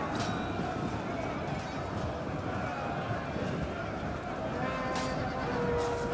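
Horses clatter and neigh continuously in a medieval battle from the video game Medieval Kingdoms 1212AD, amid a dense, loud battlefield din, with someone talking over it throughout.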